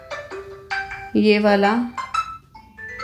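Short melodic system ringtones on a OnePlus Nord phone play one after another as chiming tonal phrases, with someone speaking briefly between them.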